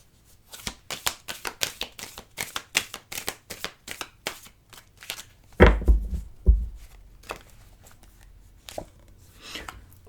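Tarot cards shuffled by hand, with a quick series of soft riffling flicks and slaps at close range, then a couple of heavier thumps as cards are drawn and laid down, with quiet pauses between.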